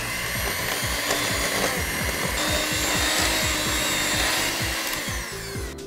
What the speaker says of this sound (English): using electric whisk, you want to put your icing sugar and butter together and just very slowly